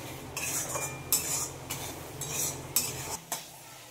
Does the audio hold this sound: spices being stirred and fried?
yes